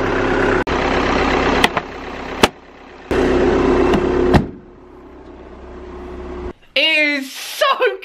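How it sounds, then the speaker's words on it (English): Dirty diesel engine in a BMW idling steadily up close, a low continuous rumble broken by a few sharp clicks and bumps, then a voice briefly talks over it near the end. "leave it ticking over in this dirty ass diesel engine"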